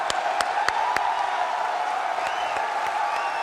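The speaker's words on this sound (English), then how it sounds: "This crowd at Atlanta has been cheering their hearts out." A large arena crowd at the ELEAGUE Atlanta Major 2017 CS:GO tournament cheers and applauds in a steady, loud roar, with sharp individual claps and whoops standing out.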